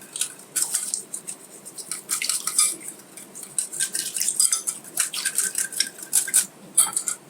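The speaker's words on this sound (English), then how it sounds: "we are going to actually roast the main ingredient, that is gram flour in" Repeated clinking and scraping of a utensil against a pan while gram flour roasts in pure ghee, an irregular metallic stirring rhythm that stays close and moderately loud, with no talking.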